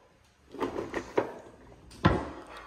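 A kids' toy drawer being handled indoors, a few soft knocks and slides building to one sharp thud as it shuts, fairly close with no talking.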